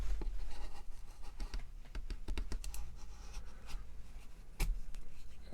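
A wood gouge shaves small, clean curls from a carved wooden spirit figure, making quiet scattered scrapes and light ticking cuts in an irregular patter, with no talk over them.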